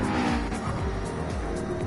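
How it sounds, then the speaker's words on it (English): A Porsche race car spins out at Fuji in Gran Turismo 7, a steady engine drone with faint tire squeal underneath, fairly quiet and continuous without any talk. "There's a spun Porsche."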